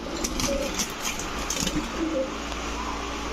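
A male Rajshahi Dobaj Giribaz pigeon coos softly in a few short, low calls, with light chirps and a steady background hum.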